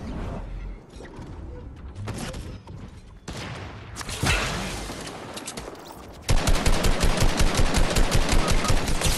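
Gunfire in Fortnite Battle Royale: scattered single shots and bursts at first, then a loud, fast, sustained run of rapid automatic fire near the end, with no talk.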